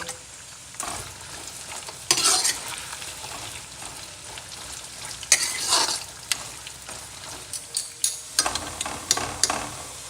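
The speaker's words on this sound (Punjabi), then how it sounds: "ਆਪਾਂ ਨੇ ਗਾਜਰਾਂ ਨੂੰ ਨਾ ਦੋ ਵਾਰੀ ਚ ਫਰਾਈ ਕਰੇ" Carrots for a pickle fry in hot oil with a steady, close hiss and sizzle, broken by louder bursts of stirring and scraping that rise and fall throughout, with no one talking.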